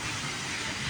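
A metro train stands at a station platform, giving a steady broadband hiss and rumble with faint clatter, fairly loud and continuous throughout without voices.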